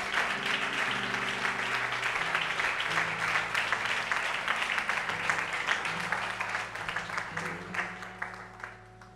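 A church congregation applauds and cheers in praise of the Lord, a sustained wash of clapping over voices and held musical tones lasting several seconds.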